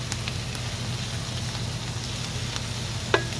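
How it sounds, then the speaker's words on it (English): Shrimp cooking in a pan at an outdoor cooking spot give a constant close sizzling hiss with a few faint ticks and one sharper knock near the end. "Now here, I'm going to add my shrimp. Then I will cook for a little bit."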